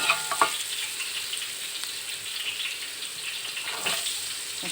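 Sliced shallots frying in a pan for a mackerel fish soup, an even crackling sizzle close by, with brief utensil clinks near the start and again toward the end, no voices.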